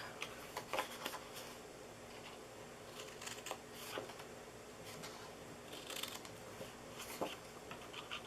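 Scissors cut into a paper treat box, with quiet, crisp snips and rustles that come in short irregular clusters against near silence.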